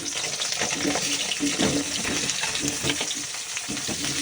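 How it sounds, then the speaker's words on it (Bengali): Cauliflower and potato hit hot oil in a pan that has just fried fish. A close, steady sizzle crackles continuously, with stirring scrapes mixed in. "এবার দিয়ে দেবো তেলের মধ্যে তোমার ফুলকপি আর আলু"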